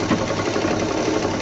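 A sewing machine stitches a handbag, its motor whirring in a steady, continuous buzz of rapid needle strokes, close and fairly loud, with no voices.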